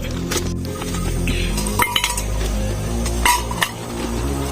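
Metal clanks as a mu kratha grill pan is set down at a campsite, followed by a few light clinks of dishes and utensils over a low steady background hum.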